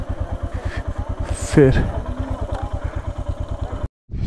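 A motorcycle idling and rumbling while being parked on a trip toward Shanti Stupa in Leh, Ladakh: a steady, close, pulsing engine beat with a brief clatter and a short word spoken over it.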